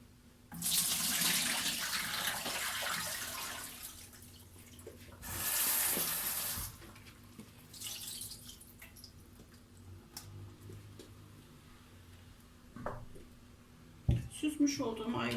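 Boiled quinces for quince jam are strained, with water pouring loudly in several bursts, then quieter trickling and scattered drips, and a sharp knock near the end.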